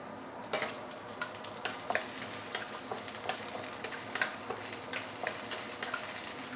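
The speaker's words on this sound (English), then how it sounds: "we can put in the star anise and also cinnamon stick" Star anise and a cinnamon stick sizzling in hot oil for braised pork leg, a steady loud frying hiss with small pops and light stirring clicks throughout, no talk.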